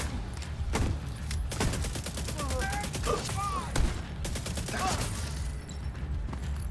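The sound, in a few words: gunfire in the video game The Division 2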